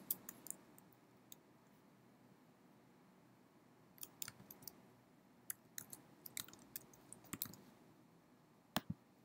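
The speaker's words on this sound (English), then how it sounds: "Then you can add people by clicking on the Add Person button." Sharp computer mouse clicks sound in scattered bursts, single taps and quick doubles, close and crisp over a quiet room while attendee data is managed.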